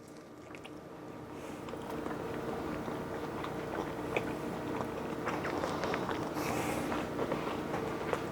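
An egg white protein blueberry muffin is bitten and chewed up close, giving soft, moist, squishy chewing sounds that continue in a steady rhythm, with no talk.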